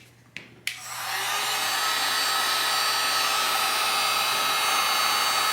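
A heat gun warms clear shrink wrap on a sublimation tumbler: two clicks, then a loud steady blowing whir starts up close and runs on evenly without pause.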